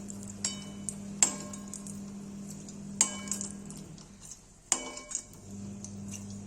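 Onions going into a pan of reduced oil for mushroom masala, with a few sharp metal clinks of a spoon against the pan over a steady low hum and faint sizzle, no talking.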